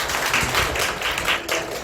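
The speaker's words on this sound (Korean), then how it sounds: "한번 박수 한번 쳐주시죠" Audience clapping at a public talk in Jinju, a steady wash of many hands filling the room for its whole length, with a few louder individual claps standing out near the start.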